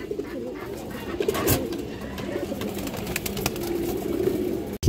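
A pair of Indian high-flyer kaldom pigeons and other pet pigeons coo continuously and close by in a dense, throaty chorus, dotted with light clicks and flutters.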